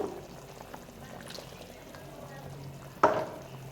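Water is poured into a mango fish curry in a pan, a soft trickle over a quiet background that ends in a sharp splash near the close.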